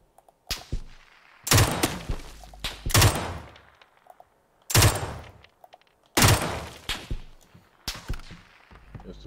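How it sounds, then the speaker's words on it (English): Bursts of gunfire in the shooter game PUBG, several sharp volleys of rapid shots separated by short quiet gaps, loud and close, with no talking over them. "Still shooting at him."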